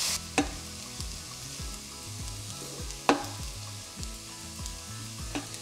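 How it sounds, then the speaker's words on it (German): Oil sizzles steadily as onions and leeks fry in a pan for a vegetarian bean stew, broken by a few sharp clinks and scrapes of stirring. "Wenn das Öl erhitzt ist, dann gebe ich die Zwiebel rein und Porree. Dann lasse ich die anbraten"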